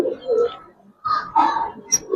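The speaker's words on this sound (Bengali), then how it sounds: "দেখেন দুইটা কবুতর" Two Giribaz colouring pigeons coo in a few low, throaty bursts separated by brief pauses. The birds are close by, in a bird-selling setting.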